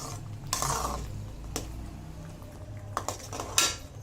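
A spoon scrapes and clinks against a pan while semolina (rava) is stirred for sweet kesari, with intermittent metallic knocks and scraping strokes, fairly close and without talk.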